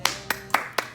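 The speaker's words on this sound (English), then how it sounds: "round of applause, ladies." Four slow, evenly spaced hand claps, close and crisp, from a single person during a TV series review, alone without talk.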